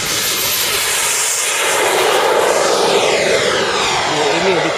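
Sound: airplane engine in a video game

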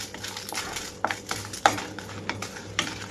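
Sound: dried red chillies frying in hot oil, stirred

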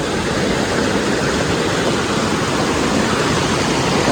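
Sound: waterfall and flowing water in a Konkan village

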